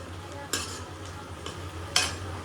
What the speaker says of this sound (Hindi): मैंने इसमें हरी मिर्च, लहसुन और प्याज डाला हुआ है। इसको अच्छे से पहले मैं भूनूंगी।